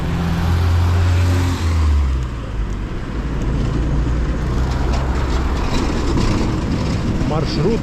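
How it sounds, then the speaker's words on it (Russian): A minibus (marshrutka) rumbles past on a road in Crimea, a loud steady engine and tyre roar heard close by from the roadside while a voice speaks over it. "Маршрутка."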